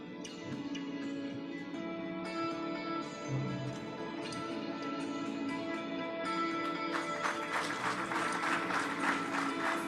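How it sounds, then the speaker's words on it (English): An audience at a memorial lecture claps steadily for about ten seconds, the applause swelling louder toward the end while a faint tonal hum runs beneath. "A huge round of applause, ladies and gentlemen."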